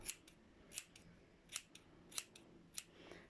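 Scissors trim the long ear hair of a Doodle dog, giving about six quick, soft snips in an uneven rhythm over a faint background with no voices.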